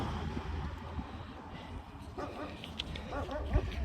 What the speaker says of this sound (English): There's a wee dog barking. That's a wee Alsatian.